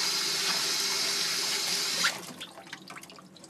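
Tap water running into a kitchen sink or bowl to soak ingredients for chikuzenni, a steady loud gush that stops abruptly partway, leaving faint drips and small clatters.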